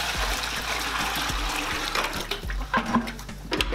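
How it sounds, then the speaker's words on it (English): Water splashing and sloshing in a bucket being rinsed, a steady broadband wash with a few thumps, close and fairly loud, no voices. "let's rinse this bucket one more time."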